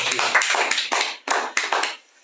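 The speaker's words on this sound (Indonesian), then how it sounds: "Kita tepuk tangan." A small studio audience on an Indonesian talk show about a football player claps in a few quick, close bursts that cut off abruptly into quiet.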